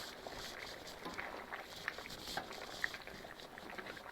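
A pot of Thai chicken curry with winter melon boiling on the stove, quiet and continuous bubbling with occasional small pops.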